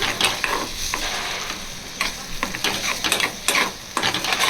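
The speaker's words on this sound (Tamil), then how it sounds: "ஸ்லோவில் வச்சு சும்மா பக்கம் லைட்டாக கிளறி விடுங்க" Egg cooking with carrot in a pan on a low flame for a poriyal, a soft sizzle broken by repeated scraping and clacking strokes of a spatula as it is stirred.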